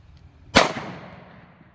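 A single sharp .38 Special revolver shot from a Federal Punch +P load, fired double action, cracks loud and close and then rings out in a decaying tail.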